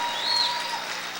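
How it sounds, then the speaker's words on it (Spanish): Church congregation at an apostle's Spanish-language service claps loudly and continuously, a bright even patter with a thin sustained tone running faintly underneath. "Vamos a aplaudir fuerte al Rey en esta hora."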